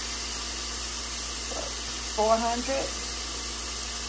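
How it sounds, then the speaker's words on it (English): Seasoned pork chops sizzle on a Hot Shot indoor grill set to about 400 to 425 degrees, giving a steady, even hiss throughout, with a brief spoken word partway through. "I got them really seasoned up nice. And it has a good sizzle."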